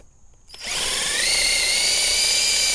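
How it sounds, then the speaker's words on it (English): A power drill bores into the wooden handle of an old, well-used axe head, starting abruptly after a brief quiet moment and then whining steadily and loudly at close range. "I'm gonna drill the wood."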